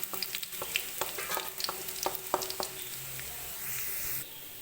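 Onions sautéing in a pan for a Kerala-style curry, a continuous sizzle punctuated by sharp spatula taps and scrapes in an uneven rhythm, close and fairly loud, no voices.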